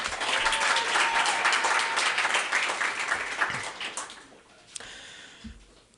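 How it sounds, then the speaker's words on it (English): A storytelling event audience applauds, a dense burst of clapping that is loud at first, thins out over several seconds and fades to near quiet. "another round of applause for Steve."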